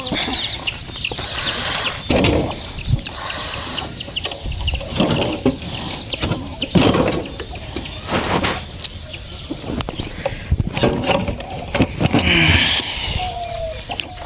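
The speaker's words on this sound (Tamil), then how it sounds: "இங்கே வண்டி நிறுத்தாலே கோழிங்கெல்லாம் ஏறி கசகசன்னு பண்ணிடுது மக்களே." Chickens on a farm cluck and squawk around a parked vehicle, their calls close and busy, with occasional wing flaps and rustling mixed in and no talk.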